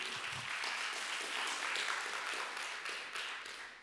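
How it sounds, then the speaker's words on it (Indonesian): A church congregation applauding during a Sunday service, a continuous, fairly quiet wash of many hands clapping in a large room, no clear voices over it. "Tepuk tangan orang lemes begini nih."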